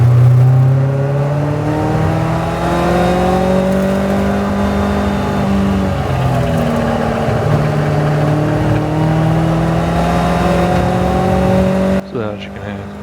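Caterham race car at Brands Hatch on a trackday, heard from onboard as it runs down the hill into a left-hand corner: a loud, steady engine drone with shifting pitch that carries almost continuously, then cuts off abruptly near the end.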